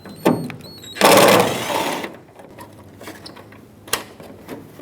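A T25 Torx screw is backed out of a tail light assembly under the tailgate cable on a 2003-2009 Dodge Ram 2500 HD, with a few close ticks and clicks and a short burst of grinding whir from the tool.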